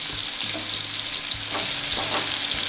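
Stuffed bitter gourd sizzles steadily in hot oil over a low flame, a dense close crackle with occasional soft stirring knocks and no talk.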